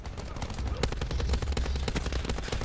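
Rapid automatic gunfire from a VKM 750 in Call of Duty Black Ops 4, dense sharp bursts firing continuously and loudly with short gaps, layered over game background sound.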